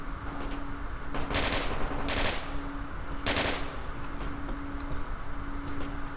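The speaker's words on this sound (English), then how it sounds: "There's certainly gunfire." Bursts of automatic gunfire ring out around the Freedom Base in the STALKER Anomaly video game, two loud sustained volleys followed by scattered shots over a steady background hum.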